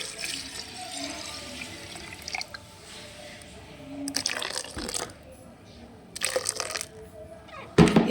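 Half a litre of water poured onto neem cake in a container, arriving in a few short splashing bursts between quieter stretches, close and fairly loud against a low background.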